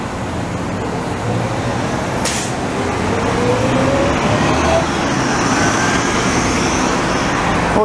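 A Porsche Boxster drives past on a nighttime downtown Montreal street, Rue St Laurent, a steady engine and tire rush rising and fading over continuous city traffic noise, with no talking.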